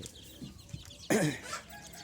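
Chickens and roughly three-week-old chicks on a Thai farm, with soft scattered clucks and peeps giving way to a louder burst of fowl calls midway, close and unaccompanied by talk.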